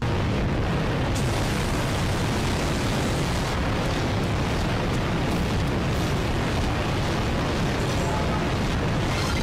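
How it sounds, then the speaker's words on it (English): Loud roaring fire and fireballs in the Universal Studios Theme Parks Adventure game, a harsh, dense, distorted blast of noise filling the whole stretch without a break. "fireballs will be shot at you by the fires, and goddamn, is the fire loud"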